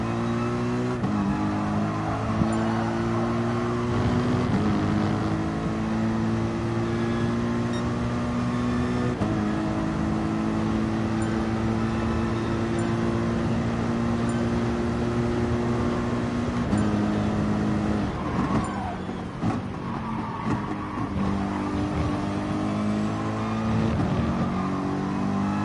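Race car engine in GT Sport during an FIA exhibition race, droning loud and steady with harmonic tones rising through repeated upshifts and brief lifts, holding near and continuous throughout with no talk.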